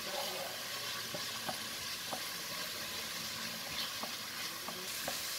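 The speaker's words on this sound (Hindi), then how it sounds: "मीडियम हाई फ्लेम के ऊपर प्याज को हम 3 से 4 मिनट के लिए सौते कर लेंगे।" Onion and peeled garlic sauté in a pan over a medium-high flame, giving a steady broadband sizzle throughout with occasional soft scrapes of stirring, close and continuous with no talk.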